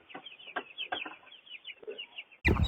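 Broiler chickens clucking softly in short, scattered calls at moderate distance while being moved to pasture, ending in a sudden loud rustling thump.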